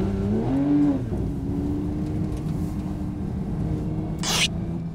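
A Porsche GT3 engine revs and pulls steadily from inside the car, a loud continuous low drone with a brief rising surge near the start, and a short hiss late on.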